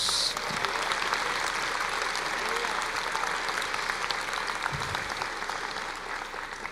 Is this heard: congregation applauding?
yes